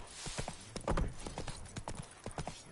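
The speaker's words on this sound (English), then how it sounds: "Not so fast, Roach" The horse Roach in the video game The Witcher 3 gallops with a steady run of hoof clip-clops at moderate volume, with no voices over it.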